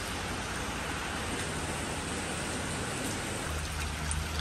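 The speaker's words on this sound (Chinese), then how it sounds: "雨还是下不停哦，越下越大" Heavy rain falls steadily in Kulim, a dense, unbroken hiss of drops striking surfaces that stays even throughout with no voices.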